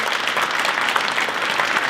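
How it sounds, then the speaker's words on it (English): Audience applause at an awards banquet, a loud, continuous burst of many hands clapping with no pauses for the whole short stretch. "Give them a nice big round of applause."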